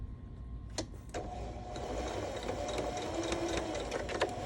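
A sewing machine stitching an invisible zipper onto sequin fabric, a steady close mechanical hum with a running stitch rhythm and a few sharp ticks, with no talking.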